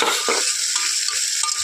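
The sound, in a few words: spice paste frying in a pan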